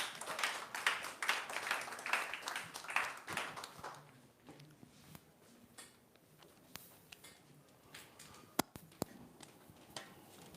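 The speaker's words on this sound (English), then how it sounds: "Let's give him a round of applause as he does that" Audience applause for President Adesina at the YouthADAPT Challenge Awards Ceremony: dense clapping for the first few seconds, fading into scattered claps and quiet room noise with a couple of sharp ticks near the end.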